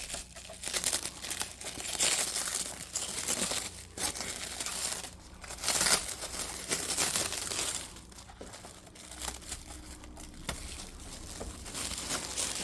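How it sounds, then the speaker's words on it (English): Plastic wrapping crinkling and tearing as it is pulled off a new Traxxas TRX4M RC truck, close and busy with irregular bursts and brief pauses. "Let's take this plastic off."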